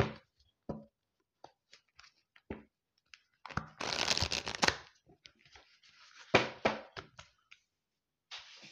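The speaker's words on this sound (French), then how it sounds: "il faut que je mélange" Tarot cards being shuffled by hand, crisp riffling and shuffling bursts between scattered soft taps and pauses, close and fairly quiet, without talk.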